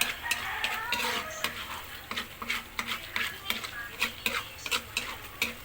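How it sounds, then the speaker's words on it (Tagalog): Biko sticky rice mixture stirred in a pan as it browns, with repeated scraping and sticky stirring strokes over a soft sizzle, close and steady without speech. "Mikos-mikos lang yan guys hanggang sa mag-brown."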